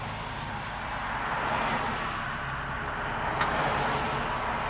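Moskvitch 412, a roughly 50-year-old Soviet car, pulling away in first gear: a steady, broad engine drone holds at a fairly even level throughout, with a slight swell partway through.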